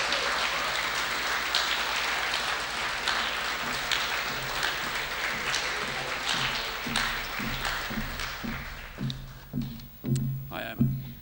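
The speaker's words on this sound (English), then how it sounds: "A big round of applause for Emma." An audience applauds as someone is welcomed onto a stage at a college event. The steady, full clapping thins out toward the end into scattered individual claps.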